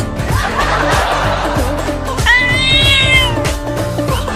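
A cartoon cat meows in a rising, drawn-out cry partway through, set against busy background music and other noise.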